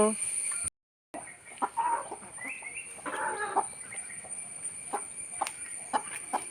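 A chicken clucks in short, scattered bursts, fairly close, over a quiet background with a faint steady high-pitched hum.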